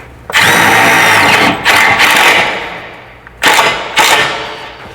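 A power drill drives a self-tapping screw into a metal side-step bracket on a van in a shop, whining loudly in four bursts: two long runs, a pause, then two shorter pulses.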